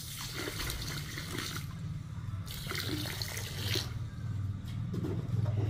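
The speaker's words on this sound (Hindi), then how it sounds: "शक्कर के बराबर डाल देंगे पानी।" Water pours into a wok holding two kilograms of sugar to start a syrup, a steady close rushing splash that swells and eases over several seconds with no talk.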